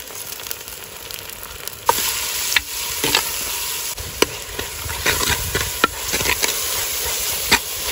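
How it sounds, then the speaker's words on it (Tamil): Tomatoes tipped into onions frying in a pan, hissing and sizzling steadily while a spoon scrapes and stirs with repeated knocks and clatters, close and fairly loud throughout. "வெங்காயம் நல்லா வதங்கிட்டு தக்காளி போடுறேன்."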